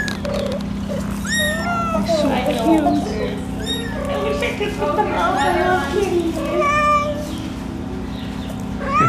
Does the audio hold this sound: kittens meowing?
yes